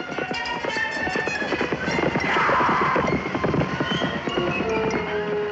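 Horses thunder past during a wild horse roundup, hooves clattering in a loud, rapid jumble with a whinny rising briefly in the middle, close and without voices.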